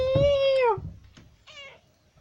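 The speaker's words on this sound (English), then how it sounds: "Cat. Meow to you too." A house cat gives one long, clear, close meow, then two shorter, softer meows follow after a pause.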